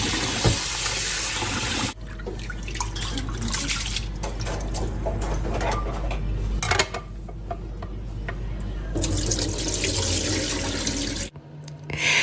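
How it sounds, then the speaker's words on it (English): Tap water runs loudly into a sink while rice is washed for Ghana jollof, with a steady rushing stream that drops into quieter rinsing and swishing in the middle, then returns before stopping abruptly. "So I washed my rice 4 times just to make sure that the water that came out was very crystal clear"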